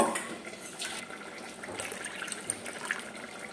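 Plain water is poured into tamarind juice being prepared for pulusu pindi, a soft, continuous splashing and trickling of liquid, fairly quiet and close, with no talking.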